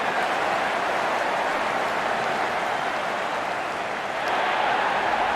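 Crowd applause from the Real Cricket 22 video game rolls on as a steady, dense roar of clapping and cheering throughout, with no pauses.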